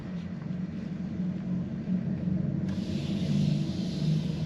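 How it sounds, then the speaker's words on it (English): Synthetic AMG sound experience in a 2023 Mercedes-AMG EQE electric sedan set to Sport Plus: a steady low droning hum with layered tonal rumble, swelling slightly louder and brighter partway through, no talking. "it has the AMG sound experience, which is what you're hearing right now"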